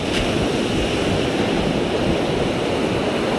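Waves wash steadily onto a beach in a continuous broadband rush of surf, with light wind noise and no voices.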